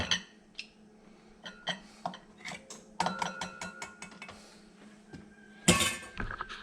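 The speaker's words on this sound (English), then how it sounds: "we'll open our mackerel and our salmon. Salmon's a product of Alaska. And we'll dump them both out into bowls" Metal cans of Alaskan pink salmon and mackerel are opened and the fish tipped into bowls, giving a string of close clinks, scrapes and clatters with sharper metallic clangs near the end.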